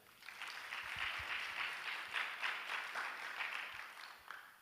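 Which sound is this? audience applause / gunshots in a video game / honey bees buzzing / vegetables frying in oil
audience applause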